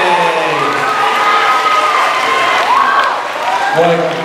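An audience at a live season finale show applauds and cheers two birthday kids, steady clapping mixed with shouts and children's voices, with a voice speaking over the crowd.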